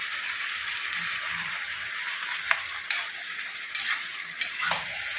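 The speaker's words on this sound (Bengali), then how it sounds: "পুঁই শাক রান্না হচ্ছে মাছের তেল দিয়ে।" Malabar spinach cooks in fish oil with a soft, continuous sizzle and hiss, broken by a few light clinks and stirring knocks from a utensil in the pan.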